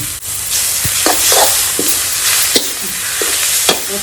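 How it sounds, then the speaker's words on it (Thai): Pork stir-fries in a hot pan with a loud, continuous sizzle, punctuated by repeated spatula scrapes and knocks against the pan, close up and without talk. "เอาหมูลงพัดก่อน"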